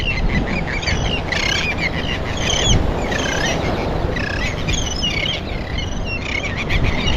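Near a canal, a chorus of bird calls rises in repeated shrill, warbling bursts, with baby birds begging and parents calling, loud and close, over a constant rushing background wash.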